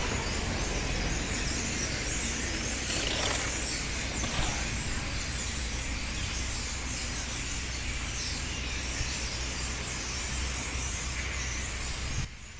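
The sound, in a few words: huge unseen flock of birds calling in a Bordeaux park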